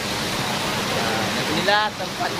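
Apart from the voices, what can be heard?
Lubuk Nginio waterfall in Kampar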